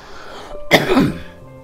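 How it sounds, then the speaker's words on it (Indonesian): A single harsh cough bursts out at close range from someone with a dust allergy, a short throaty hack followed by a brief rasping tail, with quiet room tone around it. "aku sedikit batuk guys, karena ya di sini ada alergi debu"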